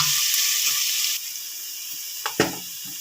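Garlic frying with browned onions in a pan while making black chana, a loud steady sizzle for just over a second before it drops away, then a couple of brief stirring clatters near the end.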